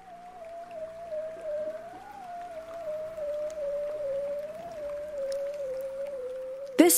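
A whale's long, wavering tonal call from a composed soundscape piece about human-made noise disrupting animal life glides slowly in pitch over a low, steady hum, with a brief sharp sound at the very end.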